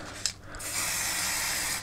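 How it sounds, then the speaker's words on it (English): A short click, then a steady pressurized hiss of a spray adhesive aerosol held for over a second, close to the microphone, used for grassing a model railway layout. "And just basically spray it"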